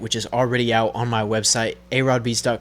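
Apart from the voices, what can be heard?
None of the usual background noises is heard.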